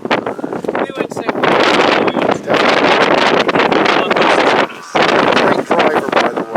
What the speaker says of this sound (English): the wind is going to blow the grass